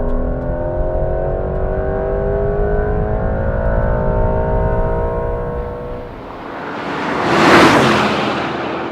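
Mercedes-AMG GT 63 S twin-turbo V8 all-wheel-drive car at full throttle, a loud steady engine roar with rising harmonic tones for about six seconds, then a brief dip and a swelling whoosh of acceleration.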